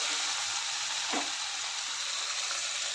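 Onion, tomato and wet chickpeas frying in a pan produce a loud, even, continuous sizzle close up, with one brief stir or disturbance near the middle.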